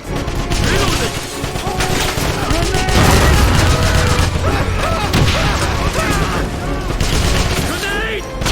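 Gunfire crossfire in the video game Wolfenstein (2009), with dense bursts of rifle and machine-gun shots, booms and crashes running continuously and loudly throughout.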